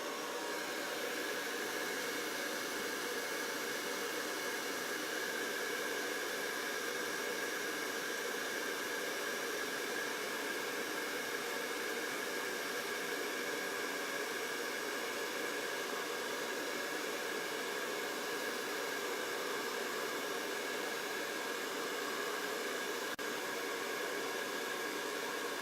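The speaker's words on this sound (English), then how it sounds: "Then hit this with a dryer while we contemplate our next move." A hair dryer blowing on freshly applied paint gives a constant, even whoosh of air that runs unbroken from start to finish at a moderate distance, with no voices.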